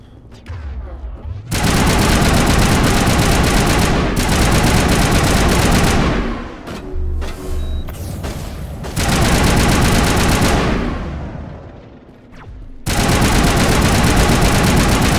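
Player's weapon in Mass Effect fires in long, loud, rapid automatic bursts, several sustained stretches of dense gunfire separated by short quieter pauses.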